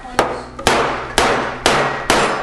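A mallet strikes a lobster five times at a steady rhythm, each blow a sharp, close, loud crack followed by a short ringing decay.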